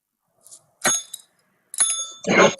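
A small bell rings as a time signal for a speaker at an online healthcare conference. A soft tap comes first, then two or three bright, ringing chimes in a quiet room.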